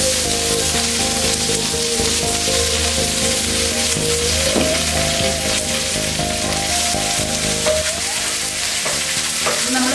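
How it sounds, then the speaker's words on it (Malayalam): Shallots, garlic and curry leaves sizzle in hot oil, a dense, loud, unbroken crackle close to the pan with faint stirring, no voices. "ഇനി നമ്മൾ ഇതിലേക്ക് നേരത്തെ അരിഞ്ഞ് വെച്ച് ചുവന്നുള്ളിയും 2 അല്ലി വെളുത്തുള്ളിയും കറിവേപ്പിലയും കൂടെ"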